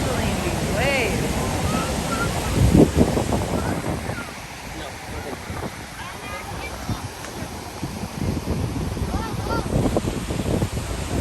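Ocean surf on the east coast at Baler in the Philippines, where surfers ride the waves: a steady wash of breaking water and wind noise throughout, with people talking and exclaiming over it.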